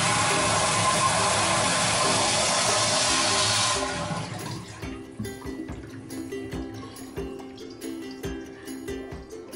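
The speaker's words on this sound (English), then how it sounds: "when I flush it" A toilet flushometer with a leak and excessive water pressure flushes with a loud, steady rush of water for about four seconds, then drops to a quieter gurgling refill with scattered clicks and drips.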